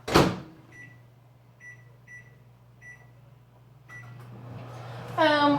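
A low, steady microwave hum runs throughout on full power, with a sharp clack at the start, several faint short beeps, and a brief voice near the end.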